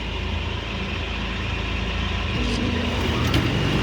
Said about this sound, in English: Exhaust fan 3.